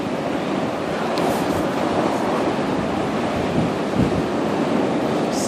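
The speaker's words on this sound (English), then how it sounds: "I don't know if you can see the waves." Ocean surf rolls in at high tide on Revere Beach during a 2013 blizzard, a continuous roar of waves mixed with gusting wind buffeting the microphone, loud and steady throughout.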